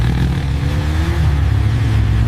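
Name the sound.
motorbike engine revving in cartoon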